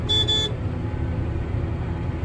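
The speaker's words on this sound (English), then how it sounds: "it's the horn, but it's a bit feeble" A feeble vehicle horn gives two short, thin toots at the start, followed by a steady low engine rumble from the vehicle with no talking.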